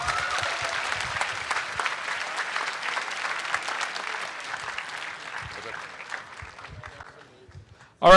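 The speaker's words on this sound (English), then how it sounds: "Let's give all our winners another round of applause." Sustained applause from a crowd honoring winners at a hackathon's final demos, steady clapping that gradually fades toward the end, with murmuring voices underneath.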